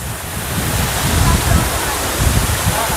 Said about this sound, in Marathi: आजपर्यंतची बघितलेला सगळ्यात तगडा वॉटरफॉल आहे माझ्या लाईफ मधला